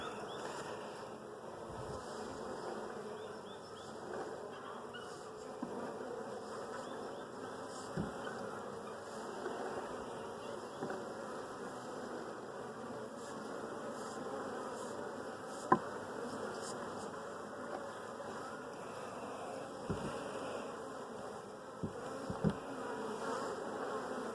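Honey bees buzz inside a hive during queen rearing, a dense continuous drone close by with occasional faint knocks.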